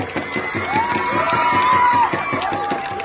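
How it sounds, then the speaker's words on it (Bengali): A crowd in front of a stage claps and cheers, a dense burst of clapping and shouts with a sustained high whistle or call, close and loud, under a bit of voice. "আমরা সবাই হাততালি দিয়ে অভিনন্দন জানাবো।"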